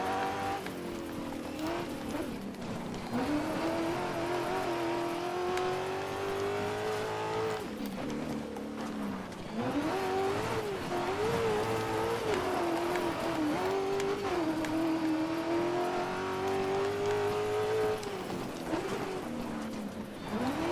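A rally car in the DiRT 2 video game drives hard with a steady, droning engine that rises and falls through gear changes, with gravelly tire noise and brief slides under it, loud and continuous throughout.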